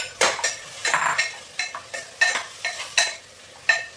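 Marinated mutton is stirred and sautéed in a pan, with a spoon scraping and clinking in short irregular strokes over a soft sizzle, close and fairly quiet.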